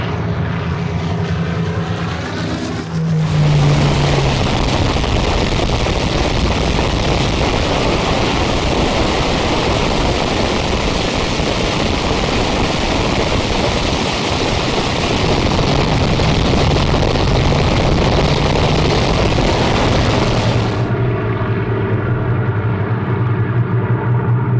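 Merlin and Griffon piston aircraft engines roar past at an airshow in one loud, continuous, close pass lasting about twenty seconds. Broadband engine noise swells in and then cuts back to a quieter drone, with no voices.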